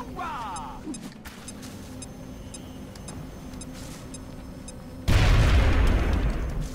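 A grenade goes off in the XCOM: Long War strategy game, a sudden loud boom arriving after a few seconds of quiet game ambience and then holding as a heavy rumbling blast to the end.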